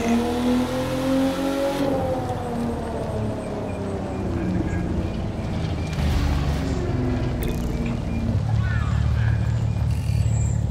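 A Porsche engine in the racing game The Crew 2 revs and climbs in pitch at the start of a race, a steady loud drone with someone talking over it.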